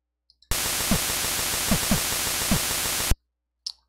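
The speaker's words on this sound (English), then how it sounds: "if I take away these volume commands right here, it'll be one long continuous noise wave" NES sound channel playing a chiptune noise wave: one continuous harsh hiss starting abruptly and holding steady for about two and a half seconds before stopping dead, with a few faint blips around it.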